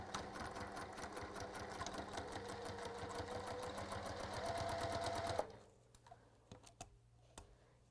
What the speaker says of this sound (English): Just sew 1/4 of an inch in along there, okay?